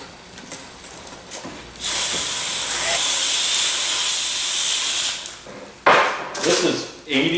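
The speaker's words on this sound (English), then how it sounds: "This is 80 grit wet dry sandpaper." Wet sanding the back side of a concrete coffee table with 80 grit wet/dry sandpaper gives a loud, steady hissing scrape for about three seconds, with shorter scraping strokes after a pause.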